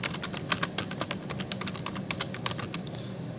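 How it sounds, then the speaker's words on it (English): Fingers typing text on a computer keyboard, a close, quick, uneven run of light plastic key clicks that continues for several seconds, with no speech over it. "So I'm going to simply type in using hyperlinks up here."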